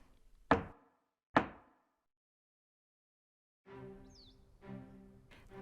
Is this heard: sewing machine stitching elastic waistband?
no